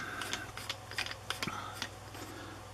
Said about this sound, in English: So I'm going to screw my handle back on here, nice and snug